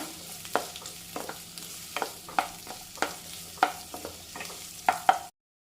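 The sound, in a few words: sautéing chopped onions in a pan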